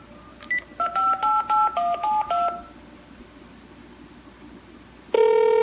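Touch-tone telephone keypad dialing a callback number: a quick run of about ten distinct beeps in steady rhythm, close and clear, followed by a pause and then a sustained tone starting near the end.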